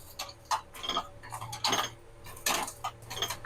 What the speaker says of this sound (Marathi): आपण ह्याला कढाईमध्येच झटकेपट असं सोलून घ्यायचे